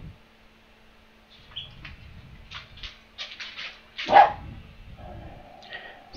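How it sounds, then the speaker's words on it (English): Several dogs bark in short irregular bursts, fairly close, with one louder yelp standing out, over a low background hum and a few faint high chirps. "Sorry about my dogs, guys."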